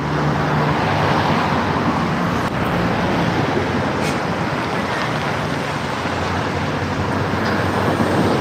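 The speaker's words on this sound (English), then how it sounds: "wait for the traffic to die down a second here" Road traffic roars steadily past beside a river, a continuous broad rush of passing vehicles with wind, fairly loud and unbroken, with no voices.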